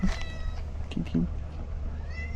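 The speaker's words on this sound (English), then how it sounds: "Do you see a kitty cat?" A cat meows a few times close by, short and clear, while a person talks softly to it in the background.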